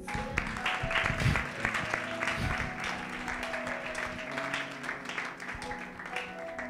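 A church congregation at a worship service applauding for Jesus: sustained, lively clapping from many hands alongside sustained musical tones and faint voices.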